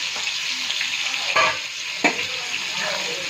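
Tamarind juice, boiled in advance, poured into a pot of simmering sambar, with steady sizzling and stirring throughout and two brief louder splashing clinks partway through, no talking.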